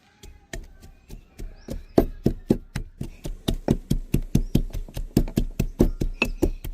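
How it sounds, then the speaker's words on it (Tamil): Lemon and mint being muddled in a glass for a mojito, a steady run of sharp, rhythmic knocking thuds close by that grow louder and faster, with no talk. "ஒரு கிளாஸ்க்குள்ள நம்ம கட் பண்ண லெமன்லாம் போட்டுடலாம். மின்ட் உள்ள போட்டுக்கலாம். இப்போ இது நல்லா கொட்டிக்கலாம்"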